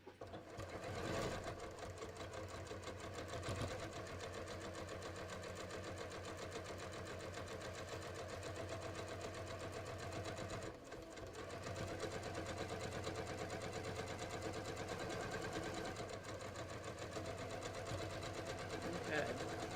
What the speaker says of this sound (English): I'm just going to stitch near the edge here as well